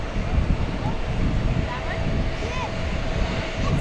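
An airliner in Breast Cancer Research Foundation livery taxis at JFK airport before a flight to Berlin. A broad, steady jet-engine roar rumbles from a moderate distance, mixed with gusty wind noise on the microphone.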